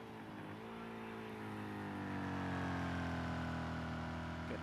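Race car engine screaming at full throttle on the Monza Grand Prix circuit in a virtual race, a loud, steady, rising whine that holds unbroken down the straight with no talk.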